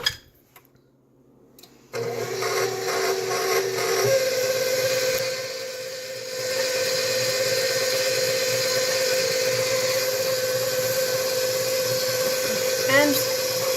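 A stand mixer whirs steadily as it kneads sandwich bread dough, its motor kicking on abruptly after a quiet start and then running in a constant even hum with a slight shift partway through.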